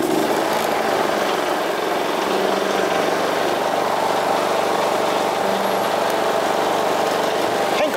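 A 2.3 kVA portable inverter generator runs with its economy switch off, giving a loud, steady, unbroken engine drone close by for the whole stretch.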